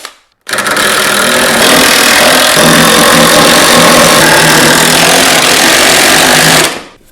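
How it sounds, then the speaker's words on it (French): A power drill drives a screw into wood while building a wooden bed frame, a loud, close, continuous whirring drone that holds for about six seconds before cutting off. "Puis on visse."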